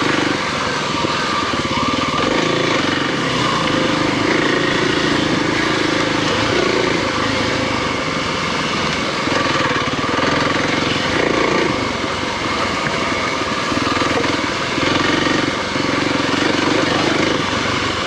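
A 2024 Kawasaki KLX300 motorcycle engine droning steadily in third gear while riding, a constant loud broadband roar with wind rumble and no pauses.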